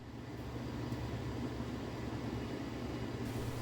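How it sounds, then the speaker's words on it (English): An ATI Radeon HD 4870 graphics card's cooling fan at idle gives a quiet, steady broadband whoosh with a low hum underneath, constant throughout. "Here's how the fan sounds in idle"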